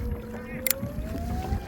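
A Newport Vessel NK180 electric trolling motor drives a Kayaks2fish NextGen 12 kayak across the water, its thin whine rising steadily in pitch over wind rumble and light water noise.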